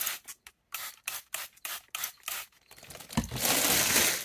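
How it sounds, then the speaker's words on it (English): A spray bottle puffs out water in a quick series of short hissing bursts, then a longer continuous spray at the end, close up. "I'm going to spray out some water"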